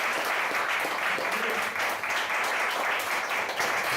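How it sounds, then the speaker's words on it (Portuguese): A church congregation applauding during a service, a loud continuous roar of many hands clapping together that stays steady and full throughout, with no speech over it. "Aplauda ele, irmãos, aleluia."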